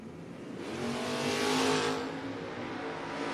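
A hot rod drag racing down the strip at a no-box shootout, a roaring engine heard from a distance that swells as the car passes and then fades back into a steady rumble.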